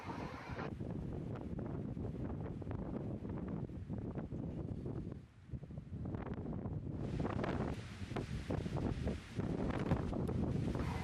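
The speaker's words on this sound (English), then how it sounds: "the storm just roared on." Strong storm winds gust and roar steadily across open water off Gambier Island, a loud continuous rushing that surges and dips with each blast, buffeting the microphone with rumbling wind noise throughout.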